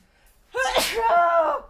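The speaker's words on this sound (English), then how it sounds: "Excuse me for the sneeze." A single sneeze bursts out close by: a sharp noisy onset, then a drawn-out voiced tail, with no other sound around it.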